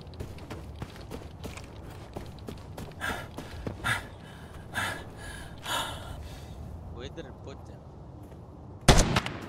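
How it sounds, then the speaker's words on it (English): Gunshots in Arena Breakout Infinite, a string of muffled distant pops and cracks, then a louder close shot near the end, with breathy sounds in between. "Shots."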